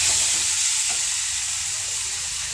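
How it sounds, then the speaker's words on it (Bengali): Chicken pieces frying in oil in a pan for a potato chicken curry, a loud continuous close sizzle with steady hissing and faint stirring scrapes, no voices. "একটু ভাজা ভাজা হবে"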